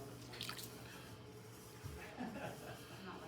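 Wet clay being pulled up into a plate wall on a spinning pottery wheel in a college ceramics demo, giving soft squishy, dripping slurry sounds with faint water, close and steady, while someone talks throughout.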